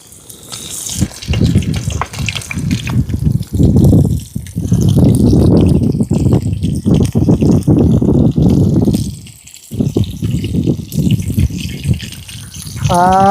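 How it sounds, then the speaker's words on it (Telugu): Chicken wings fry in fully heated oil, a loud, steady bubbling sizzle that runs almost without a break and dips briefly only once. "నూనె అయితే ఫుల్గా మరిగిందండి మనం ఇంకా మన వింగ్స్ని మెల్లిగా ఫ్రై చేసేద్దాం"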